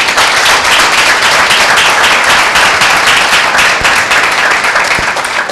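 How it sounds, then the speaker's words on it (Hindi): Dense, steady applause from a congregation at a Tuesday church meeting, sustained and loud for the whole stretch with no speech over it. "क्या यीशु मसीह के लिए ताली बजाएं?"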